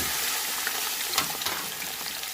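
Chicken pieces hit golden-brown onions in a pot, setting off a loud, steady sizzle and frying hiss with a few stirring scrapes through it.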